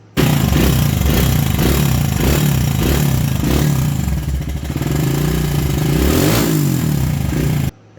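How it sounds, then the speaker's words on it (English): A Honda XR100 motorcycle engine runs close up with a loud, clanky mechanical clatter, blipping in rhythmic revs at first, then settling into a rough, uneven idle. "The exhaust sounded great, but the engine sounded clanky."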